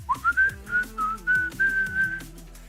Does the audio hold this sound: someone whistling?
yes